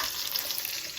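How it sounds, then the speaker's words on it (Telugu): Garlic cloves sizzle in a hot pan of oil, a brief, steady close-up frying hiss with fine crackles and no talking. "వెల్లుల్లిపాయలు కూడా వేసేద్దాం. ఇప్పుడు వేగుతాయి."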